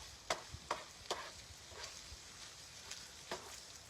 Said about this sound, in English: Going to mix in these onions with it.